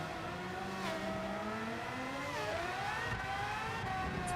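Race cars in Gran Turismo 7 roar past at a Nations Cup race, engines whining as their pitch sweeps and shifts, loud and continuous with no talk.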